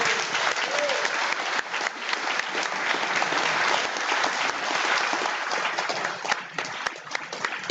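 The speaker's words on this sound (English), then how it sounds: "Can I please give a round of applause to introduce Ian Lawson." An audience at a launch event gives a loud, sustained round of applause, dense clapping and some crowd noise continuing evenly throughout.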